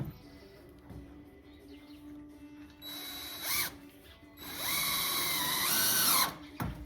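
A power drill whirs in two bursts, the second longer, its pitch rising and then dropping as it drives a screw into decking boards, over quiet background hum.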